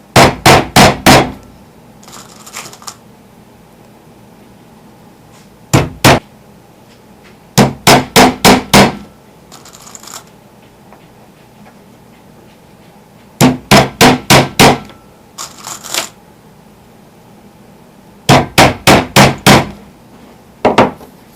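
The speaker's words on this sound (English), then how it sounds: "I haven't met a child yet that doesn't like hammering nails into things." Bursts of four or five sharp hammer blows drive nails into a wooden board for a children's math art project, each burst loud and close, separated by quiet pauses.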